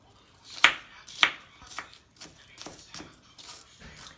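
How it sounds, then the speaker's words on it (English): Knife chopping onion while cooking curry chicken, a couple of sharp cuts followed by several softer, irregular taps over a few seconds, close and fairly quiet. "Chop a block of onion."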